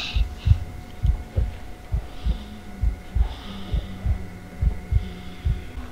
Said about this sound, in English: Shit, heartbeat.